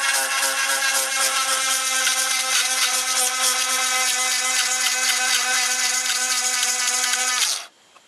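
A grinding stone sharpening a chainsaw chain, a loud high-pitched steady whine with a harsh buzzing edge, held for several seconds before cutting off abruptly.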